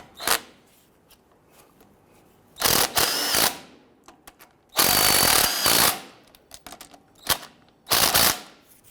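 Impact wrench tightening the lower shock bolts on a 2007-2014 Cadillac Escalade front strut assembly, heard as three loud bursts of rattling, hammering whirr separated by short pauses, close up with no talking.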